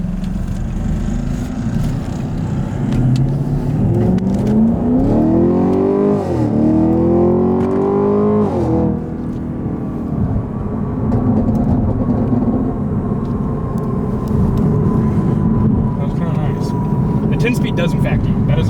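A car surges forward with quick, instant gear shifts, its engine tone climbing in steep rising sweeps before easing off, followed by a steady cruise; close cabin perspective with people chatting throughout.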